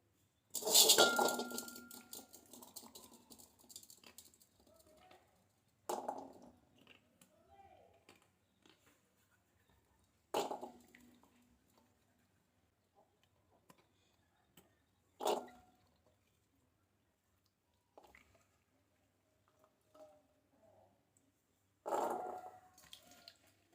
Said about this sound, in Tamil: நெல்லிக்காயை நல்லா கழுவி எடுத்துக்கலாம்.